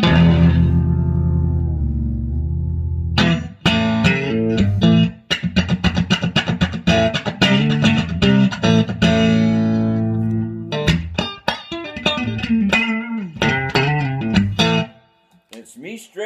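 An electric guitar plugged straight into a 1979 Fender Pro Reverb tube amp with factory JBL speakers rings out with reverb, a sustained chord fading, then strummed and picked phrases with a warm, echoing tone.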